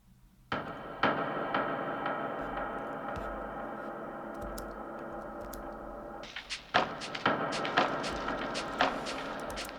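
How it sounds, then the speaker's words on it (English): A Foley percussion fill in an electronica track built in Ableton: sharp knocks, thuds and clicks land over a sustained tonal bed, growing busier and denser after a brief break midway. "Then I created a Foley fill."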